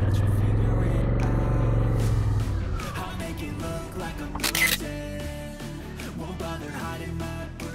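A camera shutter clicks once beside Lake Haruna in Haruna Park, a short crisp snap heard over the low hum of an idling motorcycle engine.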